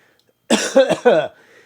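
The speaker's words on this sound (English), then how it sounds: "I'm coughing up this fine Pacifico." A few sharp, close coughs in quick succession, loud against an otherwise quiet background.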